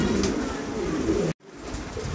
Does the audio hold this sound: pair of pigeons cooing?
yes